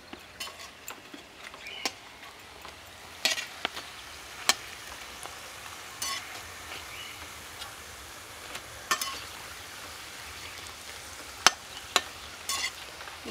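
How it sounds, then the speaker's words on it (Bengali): Bhelpuri puris fry in hot oil with a faint, continuous sizzle broken by scattered sharp crackles and pops, close by and with no voices. "সব ভেলপুরি ভেজে নিয়েছি"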